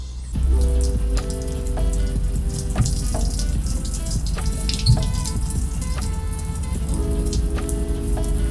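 Running water pours and splashes continuously from an outdoor shower in a Jamaican jungle setting, a close, steady spatter with scattered drips and small bird-like tones in the background.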